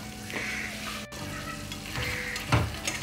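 Soft sizzling of food frying in a pan while it is stirred, steady and close, with a few scraping strokes of a utensil against the pan.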